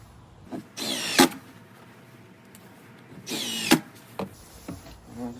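A power drill drives screws into the wood of a cedar barrel sauna with porch, two loud whirring bursts about a second long each, ending in a sharp tightening thud, then a few faint clicks.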